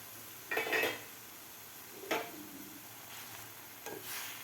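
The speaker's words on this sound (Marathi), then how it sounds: "आपण झाकण काढून बघूया" A lid comes off a pot of peas and spinach cooked on medium gas, with a few separate metallic clanks and scrapes spread over several seconds, moderately close and fairly quiet, with no talking.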